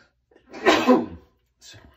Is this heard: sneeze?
yes